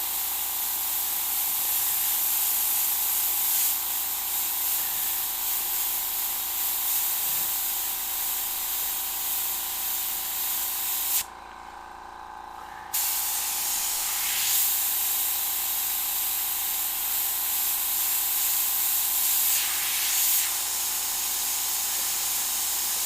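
An airbrush sprays paint onto a mammoth figure with a continuous close airy hiss, broken by one short pause near the middle before spraying resumes at the same level.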